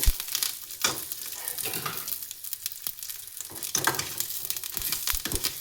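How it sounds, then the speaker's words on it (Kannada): Curry leaves crackle and sizzle in hot oil for a sweet potato sambar, with irregular stirring scrapes and pops close by throughout. "ಸೊ ಇದಕ್ಕೆ ಕರಿಬೇವು ಸೊಪ್ಪು ಹಾಕ್ತಿದ್ದೀನಿ. ಚೆನ್ನಾಗಿ ಫ್ರೈ ಮಾಡ್ಕೊಳ್ಳಿ."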